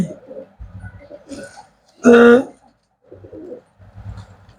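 Pigeons coo in a short, loud burst midway, with quieter talking and shuffling before and after.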